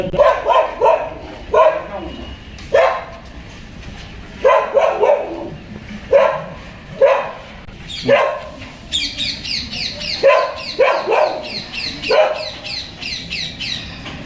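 A dog barks repeatedly in short loud bursts at close range, with squawking bird calls mixed in during the later part.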